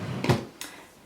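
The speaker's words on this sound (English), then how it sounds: "Final drawer is really heavy" A heavy makeup-storage drawer slides open in a filming room, giving two close, brief scraping bursts, the first louder and longer, the second sharper, then a quiet tail.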